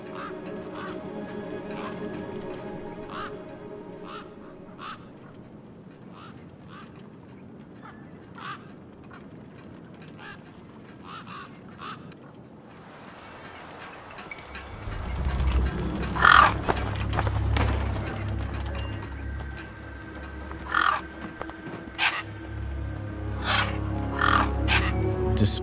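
Gang birds in Beyond a Steel Sky call out with repeated harsh, crow-like caws and quacking cries. The calls come first over a quiet wasteland hum, then continue over a louder rumbling drone.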